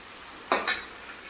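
Papaya and potato fry in a pan with a low sizzle, broken by two quick, scraping stirs of a spatula close by in rapid succession, with no talking.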